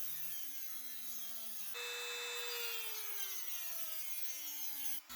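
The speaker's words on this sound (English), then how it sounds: "I'm just going to get a grinder out and I'm going to cut right across each screw to create a nice straight line" A small grinder whines at high pitch as it cuts slots across the screws of a Nintendo Switch console. The tone steps up sharply as the disc bites into the metal, then slowly sags under load. It sounds close, with no voices.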